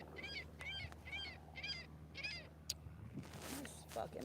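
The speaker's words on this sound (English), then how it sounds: "Seagulls are aggressive." A seagull gives a run of five harsh, evenly spaced honking calls close by, then a sharper squawk and a rustle, all against a low background hum.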